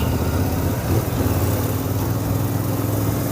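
A Royal Enfield Interceptor 650 twin-cylinder motorcycle idles just above idle speed, a steady close throbbing engine rumble with no voices.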